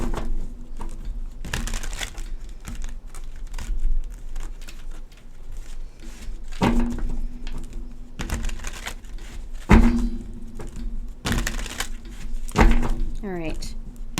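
Tarot card deck being shuffled by hand, a steady run of papery riffles and crisp slaps close by with several louder knocks of the deck, under a low background hum.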